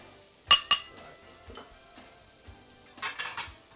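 Greens being tossed in a bowl in a kitchen while cooking a NY strip dish: a couple of sharp clinks near the start, then soft stirring and rustling scrapes, close and fairly quiet, no talk.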